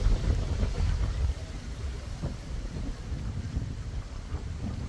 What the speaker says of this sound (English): Bloody just blow around in the wind, and you get lovely waves.